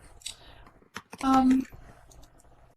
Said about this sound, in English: I didn't realize my typing interface was playing typing sounds.